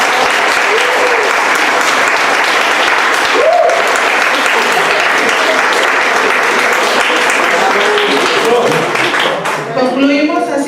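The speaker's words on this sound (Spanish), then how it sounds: "Un aplauso, por favor" Audience at the close of a university psychology research conference applauding loudly and steadily, with a few voices audible over the clapping near the end.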